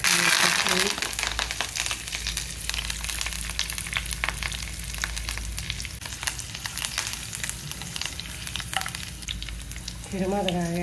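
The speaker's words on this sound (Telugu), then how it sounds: "మండి పెట్టుకొని ఆయిల్ వేసుకొని తిరగమాత దినుసులు వేసుకొని" Tempering spices frying in hot oil for a tomato curry, a steady close sizzle running through the whole clip with background music on top.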